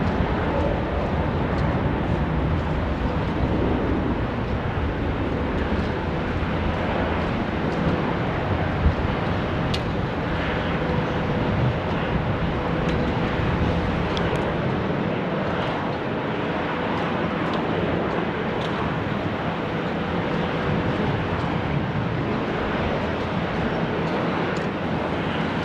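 An Air New Zealand Airbus A321neo taking off for Christchurch at Sydney Airport, a steady, loud, broad engine roar that holds for the whole stretch and stays distant but dominant, with no voices over it.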